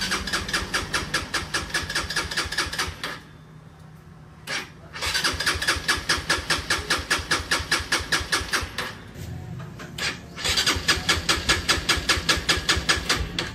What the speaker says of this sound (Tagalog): Subukan natin siyang paandarin. Umandar na sana. Push button natin.